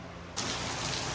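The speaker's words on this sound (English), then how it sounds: "Here's some of that rain right here." Rain comes on suddenly near a Toyota Tacoma pickup's wheel, a dense steady hiss of falling drops that jumps from quiet to full within a moment and stays constant.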